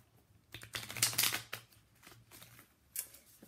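Tarot cards being shuffled nearby in quick riffling bursts, a louder flurry at first, then lighter shuffles with a short snap near the end.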